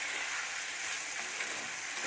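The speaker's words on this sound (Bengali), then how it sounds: "আবার একটুখানি জল দিয়ে আবার কষে নেব" Spice paste cooking down in a pan with a splash of water, for a vegetarian ghugni, giving a steady close hiss and sizzle that holds evenly throughout with no talk.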